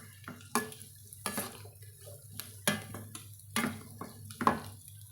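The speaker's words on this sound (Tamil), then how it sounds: "மிதமான தீயில் நல்லா வதங்கி வந்துட்டுருக்குதுங்க" Pirandai (adamant creeper) sautéing in oil on a medium flame, faint sizzling broken by a steady series of stirring scrapes and clinks of a spoon in the pan, roughly one every second.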